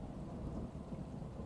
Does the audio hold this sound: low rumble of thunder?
yes